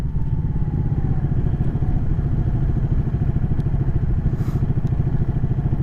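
A Ducati Panigale motorcycle on the move, its engine giving a loud, steady, rapid-pulsing rumble with rattly clatter throughout, heard close and continuous with no talk.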